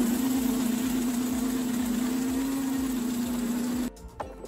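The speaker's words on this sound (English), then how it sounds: "let me show you how you burn out the tires." A Ninebot electric go-kart does a tire burnout, giving a loud, steady whine over broadband scrubbing noise for about four seconds before cutting off abruptly.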